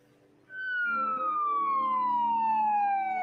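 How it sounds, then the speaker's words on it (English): An ambulance siren in Vancouver during an emergency call. A loud, close wailing tone rises in quickly and then glides slowly downward, holding steady over a faint road rumble, with no one talking. "Another ambulance on its way to try to save another life."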